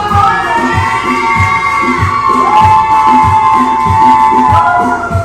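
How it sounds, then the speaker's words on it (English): A wrestling crowd in Orangeburg, South Carolina, cheers for Chico Ramirez, loud and close, with rhythmic chanting and shouting voices pulsing steadily throughout. "the crowd here in Orangeburg, South Carolina, they love Chico Ramirez"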